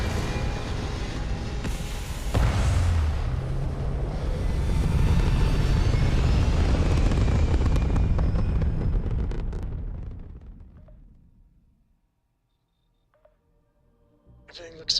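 Spaceship lifting off into orbit in Starfield, a loud sustained rumbling roar that swells and holds, then fades away into near silence, followed by faint electronic cockpit tones.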